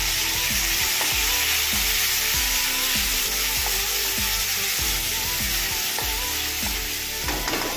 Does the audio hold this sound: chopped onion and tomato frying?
yes